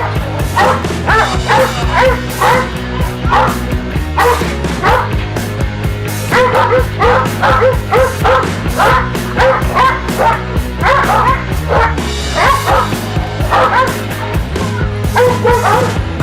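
Alabai guard dog barking repeatedly in a steady, loud run of deep barks with occasional yips and whimpers during protection training, close by and continuous throughout.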